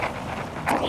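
Wind gusting outdoors around a castle in the Burren, County Clare, a steady broadband buffeting against the microphone that swells into a louder rush near the end, with no talking.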